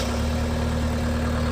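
A 2002 Vermeer V5750 trencher's diesel engine idles with a steady, loud low drone and a constant hum, close by and without speech.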